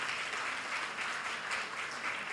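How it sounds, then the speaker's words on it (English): An audience breaks into a round of applause during an interview, dense, steady clapping that pulses slightly in waves and holds for a couple of seconds. "That calls for a round of applause"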